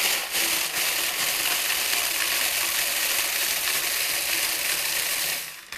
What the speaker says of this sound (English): putting in the food processor about 8 ounces of ginger snaps